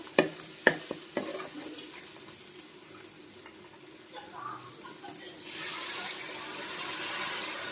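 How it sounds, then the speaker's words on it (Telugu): Utensil clinks and stirring against a pan of young lamb curry frying in oil with chili powder, then water is poured in, raising a steady, loud hiss and sizzle that carries on to the end. "వాటర్ యాడ్ చేయండి దీంట్లో"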